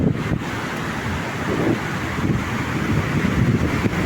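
Steady rushing roar of surf and wind at a bay boulevard, a broad continuous wash of heavy waves close by with no voices.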